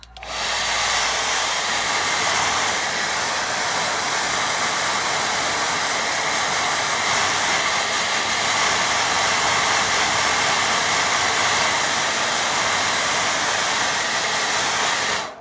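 A hair dryer blows steadily and loudly for the whole stretch, drying wet watercolour paint on paper, a constant close-up whoosh with no talk.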